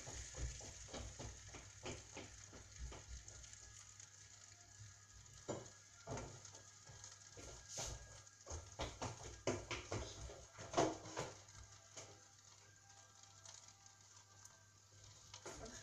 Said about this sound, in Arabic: نحطوها في الكربيه، نحطه العادة ويا زيت